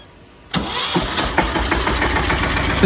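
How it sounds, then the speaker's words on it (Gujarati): A farm tractor's engine cranks and catches after a moment of near silence, then settles into a loud, rough, rumbling idle with uneven knocks close by. "આપણે આ ટ્રેક્ટરમાં ચાલુ કરીને બધાને બતાવી ચાલુ કરો જી"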